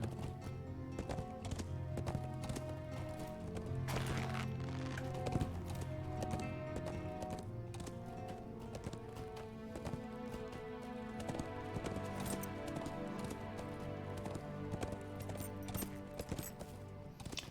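Horse hooves clip-clop steadily in a video game under a dense bed of music, with a galloping rhythm running throughout.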